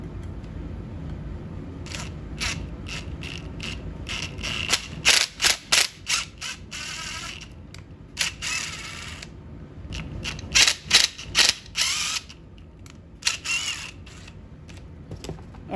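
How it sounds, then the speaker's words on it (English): Impact wrench running a 7 mm bolt through a tight space in a 4th-gen Ram truck, heard as bursts of rapid mechanical rattling and clicking separated by short pauses, close and fairly loud. "So what we'll do is thread this through with our impact"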